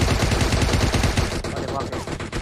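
Rapid automatic gunfire in a video game, loud close bursts of shots in quick rhythm that thin out toward the end.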